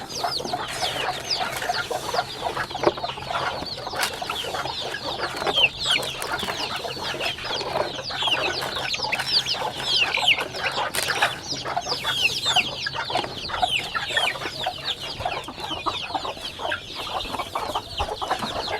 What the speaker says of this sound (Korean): 그리고 닭들이 뭐 아침에 밥 먹는 시간은 이렇게 많이 덤빕니다.